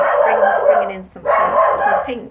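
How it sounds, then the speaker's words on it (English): A pet dog barks in two short loud bursts at close range in a home during a pottery kiln opening, with a person talking over the barks. "Sorry about my dog."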